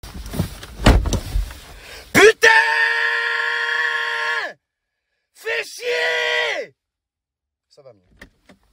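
A man screams loudly and at length inside a parked car, with long sustained yells broken by a short pause, following some muffled handling noise and thumps.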